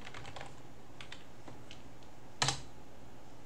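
Password typed on a computer keyboard at a Linux terminal: a few soft, quick keystrokes early on, then a single sharper key press, likely Enter, near the end, with no talking.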